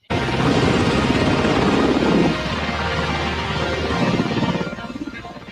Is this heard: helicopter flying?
yes